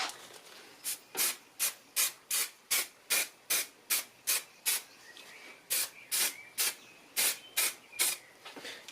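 Acid etch primer sprays from a can onto a Suzuki GSXR 600 SRAD motorcycle inner wing in a series of about twenty short, sharp hissing bursts, evenly paced with brief gaps and a short pause midway, close and alone.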